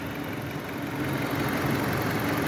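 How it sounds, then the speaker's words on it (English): A 2013 Jeep Patriot engine idles steadily with a low, even rumble, close by and unbroken, with no voices. "with the motor running"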